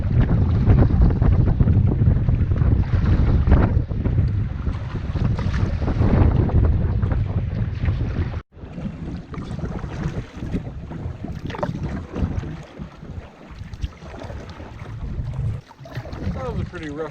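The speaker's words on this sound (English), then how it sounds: "Pretty rough windy paddle" Strong gusts of wind roar across the microphone over open water during a canoe paddle in Algonquin Park, rough and continuous, with a brief drop near the middle.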